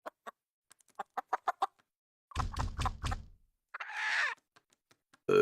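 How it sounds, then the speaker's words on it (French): The rooster Heihei from Disney's Moana clucks in a quick series of short notes, then lets out a few harsh, squawking crows, alone and fairly close. "c'est le coq de Vaiana, Hey Hey"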